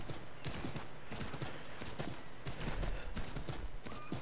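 Horse hooves clop in a rapid, even galloping rhythm while riding in the video game Assassin's Creed 3, steady and moderately close, with a brief whinny and faint game ambience.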